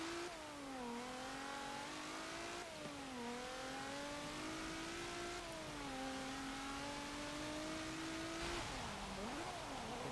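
A 1984 Peugeot 205 Turbo 16 engine in Forza Motorsport 7 revs hard through repeated upshifts, its pitch climbing then dropping at each gear change, loud and continuous with a brief lift near the end.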